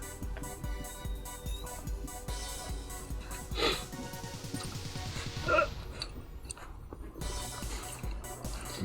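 A puppy barks in a few short, sharp bursts, fairly close, over a steady bed of fighting-game sounds and background music.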